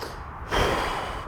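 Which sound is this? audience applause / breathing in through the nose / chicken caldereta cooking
breathing in through the nose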